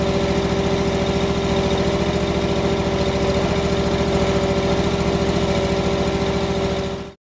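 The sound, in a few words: SealMaster SP300 self-propelled squeegee machine engine running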